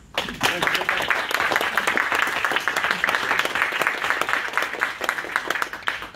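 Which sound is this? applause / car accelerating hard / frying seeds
applause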